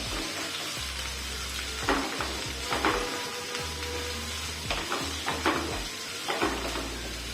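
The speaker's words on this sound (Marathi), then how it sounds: "कांदा टाकून घ्यायचा आता कांदा छान असा परतून घ्यायचा आहे" Onions sauté in a pan for a green-pea karanji filling, a steady close frying sizzle broken by several brief stirring scrapes and knocks of the spatula.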